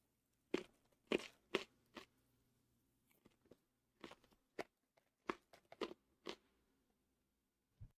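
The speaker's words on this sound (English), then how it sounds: "I hope you guys can't hear the chewing." Someone chewing crunchy raw carrots close to the mic, a run of sharp separate crunches in uneven bursts with short quiet pauses between bites, no talking.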